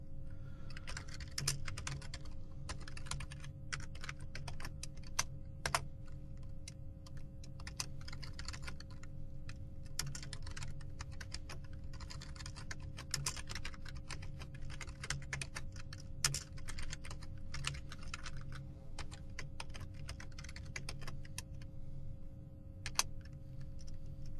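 Steady typing on a computer keyboard while building a Ruby on Rails app: quick, irregular runs of soft key clicks with occasional louder keystrokes, over a low constant hum and with no talking.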